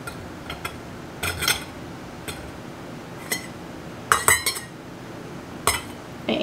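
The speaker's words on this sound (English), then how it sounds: "I'm going to start filling it with potatoes" Raw potatoes dropped into a glass canning jar, a handful of scattered hard clinks and knocks, some single and some in quick clusters, close over a quiet room with no talking.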